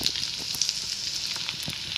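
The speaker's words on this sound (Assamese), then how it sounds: "পিঁয়াজ দি অলপ সময় ভাজিম।" Onions frying in hot oil with cumin, coriander and turmeric, the start of a tengra fish curry, give a steady, close sizzle with a few faint crackles and no talking.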